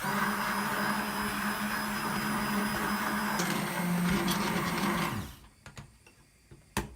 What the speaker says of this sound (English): Blend it until smooth and silky.